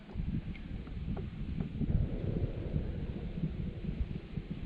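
Strong wind buffets a lake while fishing for bluegill, crappie and bass from a boat, a steady low rumble and gusty roar close to the microphone without speech.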